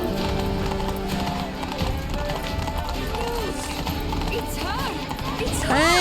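Horse hooves clip-clop steadily in The Witcher 3, with a few whinnies and neighs toward the end, close and clear, mixed with game background sounds and a voice speaking.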